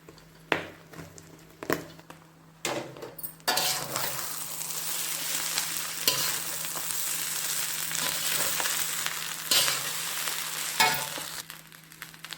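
Cooked rice stir-fried with chili powder in a pan for egg rice, a few sharp spatula knocks followed by a sudden loud, steady sizzle as the rice goes in, with occasional stirring clanks, no talking.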